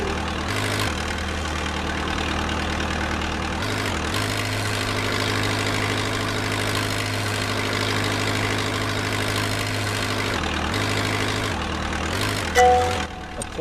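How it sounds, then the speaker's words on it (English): A forklift engine idles in a virtual reality training simulation, a steady low mechanical hum with faint tonal whine that dips briefly twice before resuming, ending in a short clunk. "Approach and align the forklift into the pallet."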